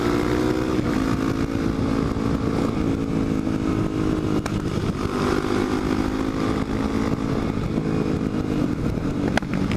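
A supermoto motorcycle ridden along the Dragon, an 11-mile road with 318 turns, its engine droning steadily and loudly throughout with slight rises and falls in pitch and wind rush over it, with no talk.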